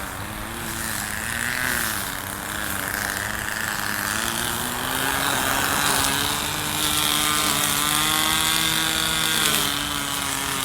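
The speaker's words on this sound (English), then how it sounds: "This is loud over here, this weed whacker." A gas weed whacker runs nearby outdoors, a steady, loud engine whine with shifting pitch that holds continuously throughout, no voices over it.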